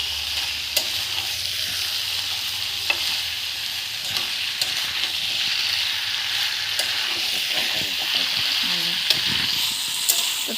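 Green jackfruit frying in hot oil while being stirred, a steady close sizzle broken by scraping spatula strokes and occasional clinks, continuous throughout.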